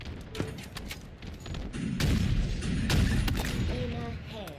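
Rapid gunfire and explosions from the video game Halo Infinite crackle in dense bursts during an online match, loud and continuous, with a player talking over the action.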